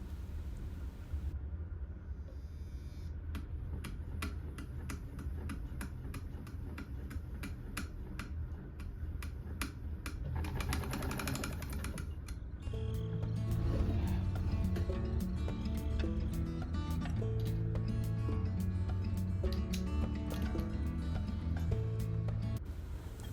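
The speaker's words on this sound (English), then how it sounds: "Bear in mind that this is a chain stitch sewing machine." Willcox & Gibbs chain stitch sewing machine stitching strips of fabric together, a rapid, even ticking run that speeds into a continuous whirring clatter, quiet and nearby with no talk.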